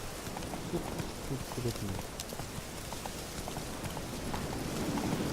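Roach, the horse in The Witcher 3, gallops in a quick, steady clip-clop of hooves at close range, with someone talking over the hoofbeats throughout.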